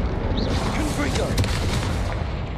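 A blasting spell bursts through a busy, dense wash of game combat noise in Hogwarts Legacy, with boomy, explosive impacts stacked over a constant low rumble and a voice calling out spell names.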